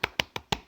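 Four sharp hand claps in quick, even succession, close and crisp, with no talking.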